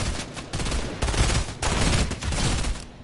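Dense, loud video-game gunfire rattles in continuous bursts with brief gaps, a sustained fusillade of shots filling the whole stretch without talk.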